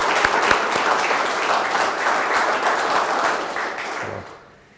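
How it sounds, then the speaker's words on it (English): Audience applause at a distinguished lecture honoring Floriculture Hall of Fame inductees: a steady, dense wash of clapping from a room full of people, holding for about four seconds before tapering off quickly into quiet. "we'll give you a clap on that too"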